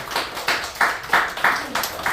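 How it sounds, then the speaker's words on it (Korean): A church congregation at a Korean Sunday service claps for a discipleship-training graduate, a short run of distinct, fairly soft claps in a loose rhythm from a small group. "박수"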